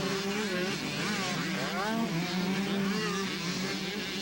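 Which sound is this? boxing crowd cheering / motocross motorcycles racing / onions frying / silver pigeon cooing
motocross motorcycles racing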